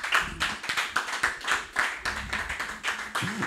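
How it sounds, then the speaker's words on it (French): A church congregation claps along in a steady rhythm, a bright, moderately close patter of many hands with a faint voice mixed in. "Applaudissons pour Jésus"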